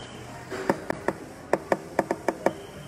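Knuckles rap the rear rack of a Honda CT125 motorcycle: about eight sharp, close knocks in an uneven rhythm, with no talking.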